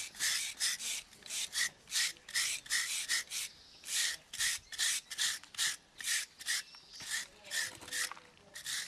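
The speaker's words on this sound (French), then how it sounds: "Cette truffe est donc finie de brosser." A metal brush scrubs a Burgundy truffle clean in rapid, rhythmic strokes, a steady scratchy rasping repeated about twenty times, close and fairly loud with no talking over it.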